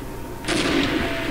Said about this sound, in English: I'm just gonna blow him up. With my last grenade.